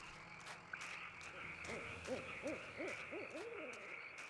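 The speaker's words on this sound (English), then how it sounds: "I hear the owl." A soft, repeated hooting of an owl in the video game Kentucky Route Zero, in a quick series over a steady low ambient hum, fairly faint and without speech.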